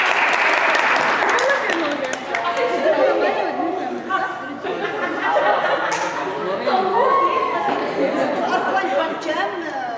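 A room of young people at a youth workshop competition applauds the winning team. Moderately loud clapping blends with steady crowd chatter and voices talking throughout.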